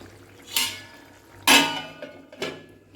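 A lid clatters onto a pot of pumpkin and potato curry, three sharp metallic clinks and knocks a second apart, close and alone in a quiet kitchen.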